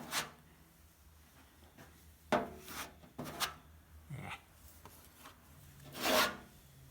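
Body filler is spread over low spots on a car body panel, making a few quiet, separate rasping scrapes and rubs with pauses between the strokes and no talk.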